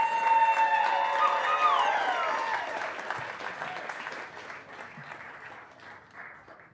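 An audience welcomes a storyteller to the stage with steady, dense applause that is loudest at first, carries a tonal whistle or squeal early on, and slowly fades.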